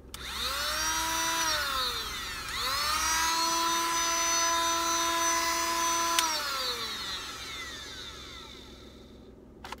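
A small Parkside 12V cordless angle grinder spins up twice with a high whining motor tone, runs steadily for several seconds each time, then winds down to silence, close and loud.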